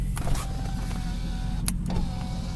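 An electric power window motor in a Lexus LS400 whirs with a thin, strained hum while the window stays stuck, then stops with a small click before a brief second run, heard close in a quiet car interior.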